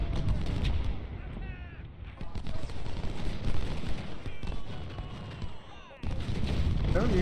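Civil War battle in the video game Ultimate General, with dense, continuous musket gunfire crackling against the deep thuds of artillery. The rumble runs steadily throughout and briefly drops near the end before surging back.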